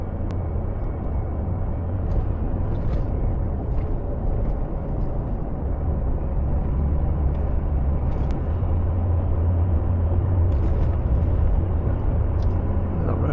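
A GWM Cannon Alpha PHEV towing 3.5 tonnes over a rough road gives a steady, close, low rumble of tyres and drivetrain, continuous and even throughout with no talking.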